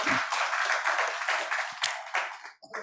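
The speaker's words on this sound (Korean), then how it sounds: "우리 하나님께 영광의 박수 올려드리겠습니다." Church congregation clapping together during a Sunday worship service, a dense rhythmic round of applause that builds steadily and then tapers off near the end.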